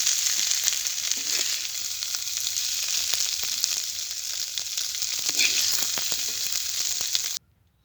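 Cauliflower pieces fry in a pan with a continuous close sizzle, broken by scattered crackles and pops, until the sound cuts off abruptly near the end; nobody speaks.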